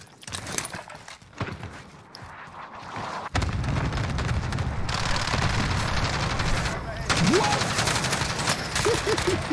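Rapid automatic gunfire in a Call of Duty Warzone match, loud and sustained bursts filling most of the moment, with dense battlefield noise and players talking over it.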